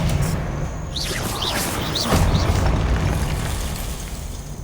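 A Confringo fire spell from Hogwarts Legacy goes off as a loud, roaring burst with whooshing crackle, sustained rumbling across the whole stretch and swelling slightly midway, with no talk over it.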